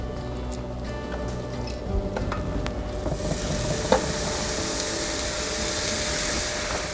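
Ground turkey sizzling in a hot large skillet, a steady crackling fry that swells louder and brighter after a few seconds of quieter stirring and clinks.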